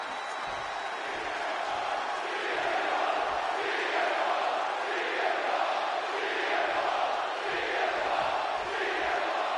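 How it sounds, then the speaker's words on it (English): Arena crowd in the wrestling video game WWE 2K26, a loud, continuous roar of many voices cheering and shouting in a large indoor venue, with commentary voices faintly underneath. "And just listen to this crowd here in Chicago."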